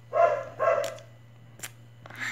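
A dog gives two quick, moderately loud barks close by, followed by a few faint clicks and a short higher yip, over a steady low electrical hum.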